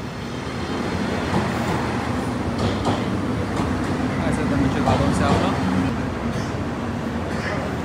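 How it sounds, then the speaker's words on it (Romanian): A train pulls into a station, its steady rolling rumble loud and continuous throughout, with faint voices and street noise around it. "haideți să așteptăm trenul."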